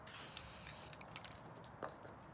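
A close spray paint can hisses in one steady burst, then stops, followed by a few faint taps and a short extra puff.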